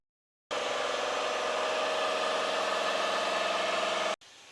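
A Nissan R32 GTR fitted with a PRP billet dry sump and Hypertune manifold catches and settles into a steady, loud, even idle with a droning hum, running alone until it cuts off abruptly near the end.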